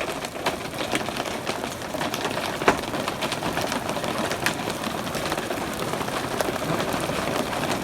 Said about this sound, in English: I think that's rain.